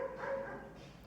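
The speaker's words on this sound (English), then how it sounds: "Sorry about the dogs barking." Dogs bark somewhere in the background indoors. One brief, faint yap stands out at the very end of a short, quiet moment.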